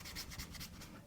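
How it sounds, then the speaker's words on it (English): A scrub pad rubbed back and forth on the inside of a truck window, a close, steady rasping with even strokes about five times a second, heard alone. "Now I'm gonna run through with my scrub pad."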